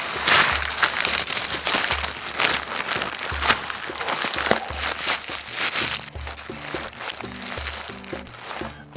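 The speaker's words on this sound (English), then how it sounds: "We put this in the second plastic bag." Crinkling plastic bag handled as a watermelon in a cloth bag goes into a second plastic bag, with continuous close rustling and crunching, plus low tonal hum and faint background sounds throughout.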